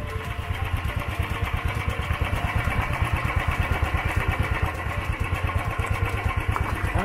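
A motorcycle engine runs steadily along a dangerous ghat road to an ancient temple, its low, rapid pulsing thrum loud and close, holding a constant rhythm throughout with no talking.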